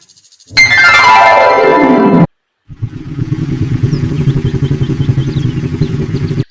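A cartoon motor scooter revs loudly with a falling whine, cuts off briefly, then idles and putters steadily at close range.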